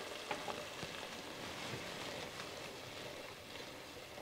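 Paprika and a pinch of red pepper flakes fry in a chowder pot for shrimp, bacon and corn chowder, giving a soft, steady sizzle with faint stirring clicks, fairly quiet and without talk.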